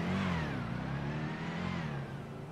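A motorbike engine revving as the rider pops a wheelie in a video game: a continuous mid-pitched engine drone whose pitch rises and falls in smooth sweeps, fairly loud and close, easing off slightly near the end.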